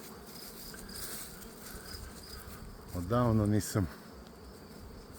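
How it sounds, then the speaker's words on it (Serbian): Honeybees buzz steadily around hives in an apiary, a dense, continuous hum close by, briefly interrupted by a man's short spoken word. "vidite šta rade pčele"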